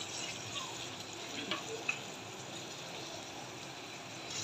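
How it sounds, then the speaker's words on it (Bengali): Onions and dried fish (shutki) fry in a pan with salt and garlic paste, giving a steady, soft, close sizzle with occasional small stirring scrapes and ticks. "একটু লবণ, একটু রসুন বাটা দিয়ে পেঁয়াজ আর শুটকিগুলো ভাজবো।"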